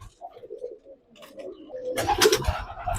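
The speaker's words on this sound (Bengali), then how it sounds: "দুইটা পিওর সাদা কবুতরের বাচ্চা, খুবই সুন্দর, অসাধারণ" Pure white pigeon chicks, only a day or two old, cooing softly in a few low, close calls, followed by a louder burst of rustling and noise near the end.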